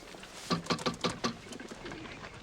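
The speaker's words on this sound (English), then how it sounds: "most of these birds look like they can fly halfway around the block." Pigeons coo in a short run of soft, throaty calls, five or six pulses close together, then fading into a quieter murmur of birds nearby.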